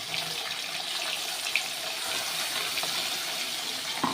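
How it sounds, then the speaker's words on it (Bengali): Water is poured into a pan of fish curry (bata fish), a steady close splashing gush that runs continuously for a few seconds with no talk over it. "এবার আমি জল দিয়ে দিয়েছি"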